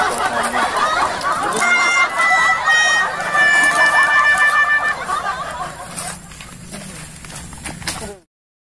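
Chickens cluck and squawk loudly and close by in a rural Sundanese comedy scene, a busy run of repeated calls that thins out before ending abruptly.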